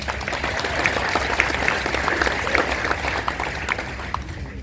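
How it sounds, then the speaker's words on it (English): A room of people at a Veterans Day celebration claps steadily for a past mayor, a dense, even round of applause that holds for several seconds and fades slightly at the end. "please give him a round of applause"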